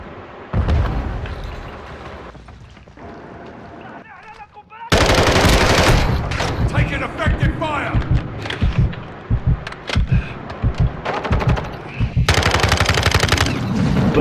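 Rapid automatic gunfire and explosions from Call of Duty: Modern Warfare II raid mode, loud bursts of machine-gun fire dominating after a quieter opening, with a voice talking briefly beneath.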